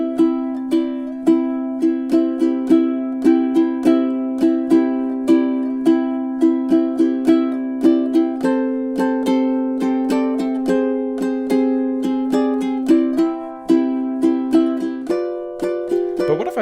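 Ukulele strummed through a song's chord progression as written, a steady, even rhythm of bright plucked chords with crisp strokes, played alone with no talking.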